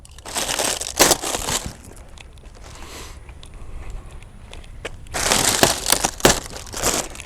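Plastic packaging is torn and pulled off a Drive Medical Cobra GT4 mobility scooter, close, loud crinkling and crushing in two bursts separated by a quieter spell of softer rustling and handling.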